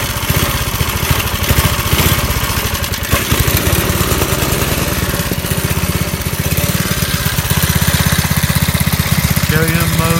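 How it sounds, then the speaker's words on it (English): Vintage mini bike with a Briggs & Stratton 2hp engine started on a cold 35-degree day, running loud and close with a rapid chugging putter that quickens toward the end, while a person talks over it. "These motors don't like to cooperate on cold days."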